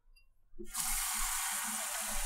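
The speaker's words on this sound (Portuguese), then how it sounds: "Você vai colocar água." Tap water runs steadily into a bowl set out for cleaning fountain pens. It is a continuous close hiss that starts abruptly and keeps going.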